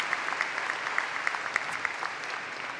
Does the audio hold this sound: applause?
yes